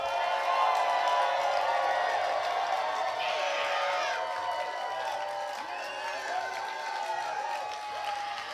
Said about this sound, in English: Give them another round of applause here.